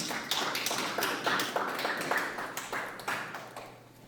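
A small audience at a Korean art gallery talk claps to welcome an artist, with scattered, uneven hand claps that overlap and trail off over a few seconds.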